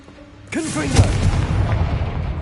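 A Confringo fire spell from Hogwarts Legacy lets off a loud, sudden explosive boom, followed by a crackling, rumbling tail that fades over about two seconds, with a voice calling out over the blast.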